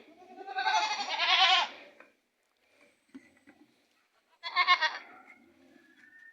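Goats bleat on a Jamaican goat farm, two loud, wavering calls close by separated by a few seconds of near quiet with faint scattered farmyard noises.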